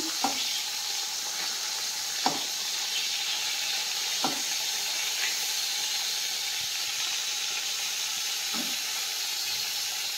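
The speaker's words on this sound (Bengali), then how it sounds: "খুব তেল টানবে, তাই আমি একটুই তেল দিয়ে করছি, অল্প অল্প করে ভেজে নিচ্ছি।" Eggplant frying in a little oil gives a steady broadband sizzle and hiss throughout, with a few soft stirring clinks at irregular intervals, close and moderately loud, and no voices.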